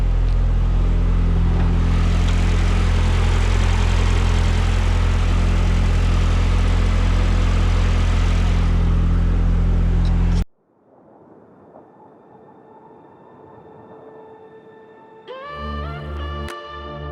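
A Mazda MX5 fitted with a turbo engine, left unstarted for a couple of months, drones loudly at a steady idle for about ten seconds before cutting off to quiet background with some tonal whining near the end.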